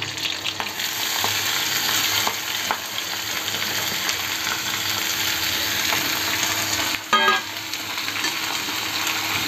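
Finely chopped onion fries in hot oil for a methi vegetable dish, giving a steady, close sizzle throughout, with a brief clatter of stirring near the end.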